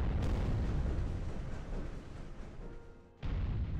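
Heavy booming salvos from naval guns firing at a British transport ship in Commander: The Great War, a loud rumbling blast that decays, then a sharp new boom near the end.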